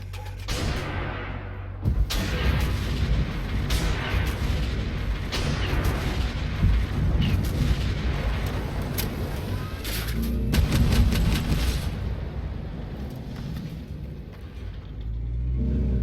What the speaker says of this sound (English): now I'm going for the missiles